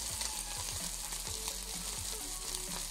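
Chicken fillet frying with onion in a pan for a keto breakfast, giving a dense, steady sizzle with soft intermittent stirring taps, close and continuous with no voices.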